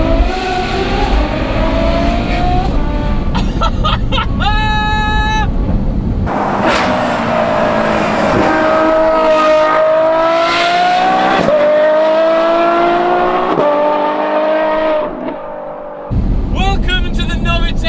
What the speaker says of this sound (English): even louder straight through titanium exhaust system